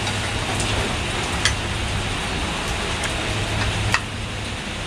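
Rain pours down steadily during a storm as a dense, even hiss close to the microphone, with a couple of brief knocks and no speech.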